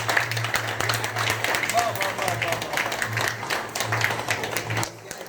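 An audience claps in a burst of applause that carries on for several seconds, fairly close, with crowd voices mixed in and a low hum underneath.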